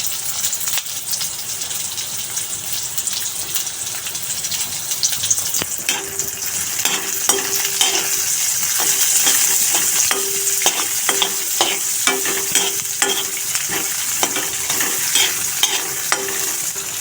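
Ginger and green chili frying in a pan make a steady, close sizzle that grows busier partway through, punctuated by repeated scraping and tapping of a spatula.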